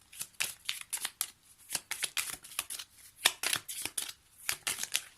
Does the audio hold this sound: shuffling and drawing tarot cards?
yes